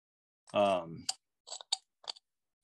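A carving knife takes light, shallow cuts across a wooden ornament blank to smooth away bandsaw marks, giving a few short, quiet clicks after a brief vocal sound.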